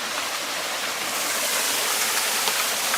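A waterfall near Sigulda, Latvia, heard close as a loud, continuous rushing hiss of falling water that stays steady throughout, with no voices.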